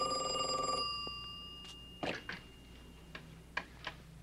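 A telephone rings after being dialled, a few clear ring tones at the start, followed by faint scattered clicks and ticks, with no talk.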